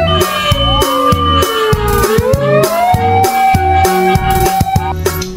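Electronic siren from a toy fire truck wails loudly and close, sweeping up and down in a repeating pattern mixed with beeping electronic tones, with no voices.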